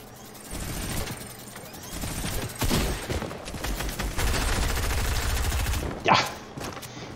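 Machine pistol fire in a video game rattles in rapid automatic bursts, loud and near, with a rolling stretch of shots midway and a sharp blast near the end, someone talking faintly over it.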